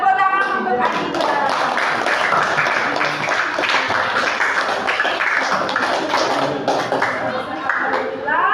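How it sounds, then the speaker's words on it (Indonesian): Clapping from a class of students for a classmate during a Year 7 Islamic religious education lesson on sujud, steady and fairly loud for the whole stretch, mixed with voices talking. "Tepuk tangan untuk Adinda."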